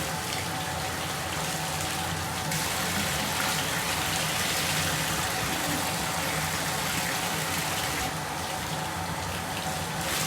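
Cold water runs steadily from a tap while shirts are bleached for sublimation, a continuous close splashing hiss that barely changes for the whole stretch.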